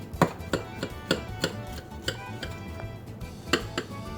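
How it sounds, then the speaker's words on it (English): Knife cutting through pan lasagna with repeated clinks and scrapes of metal against the pan, about a dozen irregular close taps over a quiet background. "let me cut it with knife"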